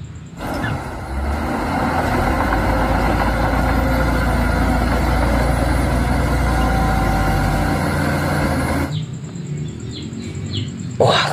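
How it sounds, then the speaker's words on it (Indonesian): A toy bulldozer runs its engine sound effect, a steady, loud mechanical rumble lasting about eight seconds before cutting off abruptly, followed by quieter room noise. "Ini bulldozer."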